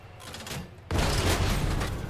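Tank cannon fire and battle noise in World of Tanks Modern Armor, a sudden loud blast halfway through followed by a sustained roaring rumble.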